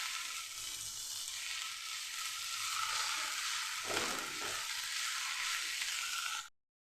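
Kanai greens frying in a pan, a steady bright sizzle that holds evenly for several seconds with a brief stir midway, close and fairly quiet, then cut off.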